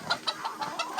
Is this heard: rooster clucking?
yes